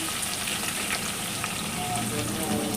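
Steady, dense sizzling of garlic tempering frying in hot oil, loud and close, continuing without a break for a few seconds.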